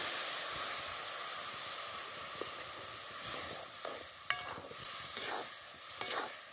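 Fried green chillies are stirred with buttermilk in a pan, producing a soft, steady hiss and sizzle with a few sharp clicks and scrapes of the spoon against the metal, heard close and fairly quiet.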